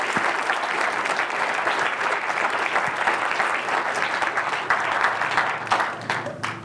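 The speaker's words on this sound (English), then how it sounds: "let's give Dr. Turek a round of applause" Sustained applause from an audience at a lecture on faith and atheism, honouring Dr. Turek: dense, even clapping that carries on steadily from start to finish before easing slightly at the end.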